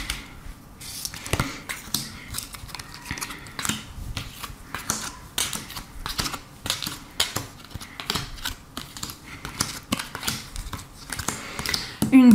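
Tarot cards are shuffled and laid out in a quick run of crisp, close snaps and soft slaps, a steady flurry of small papery clicks with no talking.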